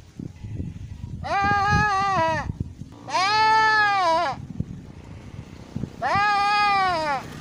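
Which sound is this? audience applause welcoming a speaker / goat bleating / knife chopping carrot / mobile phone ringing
goat bleating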